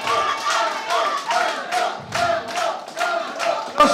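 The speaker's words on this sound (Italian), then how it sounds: "Un applauso!" Audience applause at an Italian televised community event for the CVL and Aquilone associations, rising in repeated swells of clapping and crowd noise with loud, close bursts.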